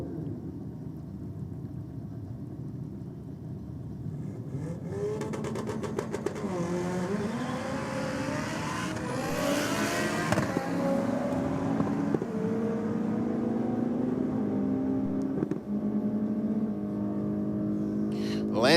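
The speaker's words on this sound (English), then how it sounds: "Next up, the Chrysler Centura in the Aeroflow lane. Taking on the Mitsubishi Lancer in the Rocket." A Chrysler Centura and a Mitsubishi Lancer launch in a drag race, engines droning and then surging in a loud rising roar with crackling exhaust as they accelerate down the strip.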